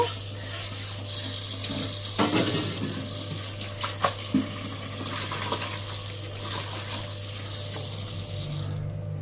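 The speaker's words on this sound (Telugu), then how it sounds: "కడగడానికి అయితే కొంచెం వెడల్పు లాంటివి తీసుకుని అందులో వాటర్ పట్టుకుంటున్నాను" Tap water runs steadily into a wide basin, with a constant low hum underneath and a few clinks and splashes partway through.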